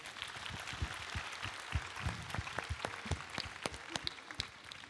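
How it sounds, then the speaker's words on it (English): Audience clapping at a convention panel with actors, a dense patter of many hands at a moderate level, continuing steadily without voices. "Applaudissements, s'il vous plaît."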